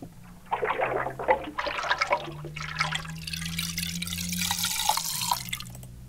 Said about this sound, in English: I have this sample here, it's a water sample.